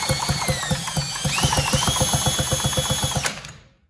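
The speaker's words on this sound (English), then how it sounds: "So I'm putting my big drill, or not my big drill, but a drill in here. Then we'll spin this around" A power drill spinning the flywheel of a 1974 Mercury 4 hp outboard motor to check for spark, a loud, rapid rhythmic chugging of the turning engine under a rising whine that cuts off and fades.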